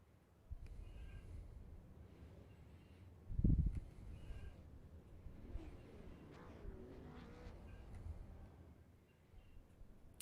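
Super late model race cars roll behind the pace car at Martinsville in the iRacing video game, a steady low engine drone with a single brief thump partway through.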